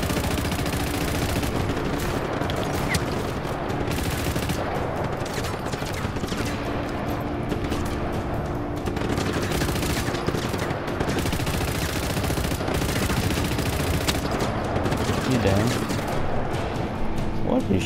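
Video game gunfire from Just Cause 3, with dense, sustained automatic shooting and rapid bursts of shots hammering on continuously, while a player talks over the action.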